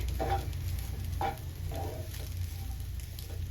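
Rice frying in melted butter in a pan for veg fried rice gives a soft, low sizzle broken by three short stirring scrapes.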